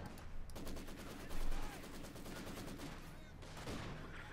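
Rapid machine-gun fire rattles in a steady stream through a WWII strategy game battle, loud and continuous with a brief heavier burst early on.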